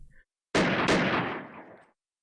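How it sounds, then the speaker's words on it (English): A sharp volley of gunfire from Imperial soldiers in the Hakuoki video game: two loud, close overlapping blasts that ring out and decay over about a second, with no talk. "A volley of gunfire erupted from the rest of the Imperial soldiers nearby."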